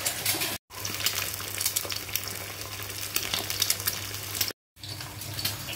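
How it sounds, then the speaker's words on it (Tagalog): Steady crackling sizzle of an egg frying in a pan, broken by two brief moments of silence. No voices. "Prito lang ako ng itlog"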